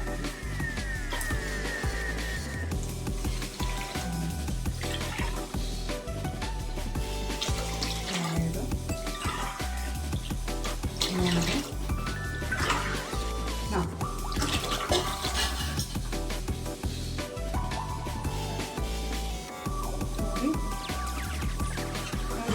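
Water poured from a glass into a pot for cooking rice, a continuous close splashing and trickling stream in a home kitchen, running steadily throughout.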